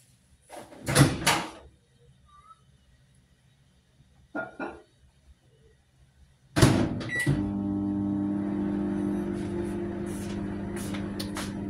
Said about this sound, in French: Alors je vais mettre ça au micro-ondes